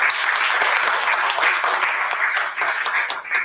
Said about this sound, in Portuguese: eu também queria pedir uma salva de palmas para ele